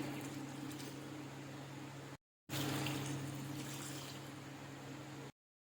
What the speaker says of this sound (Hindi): में 2 गिलास पानी डालेंगे।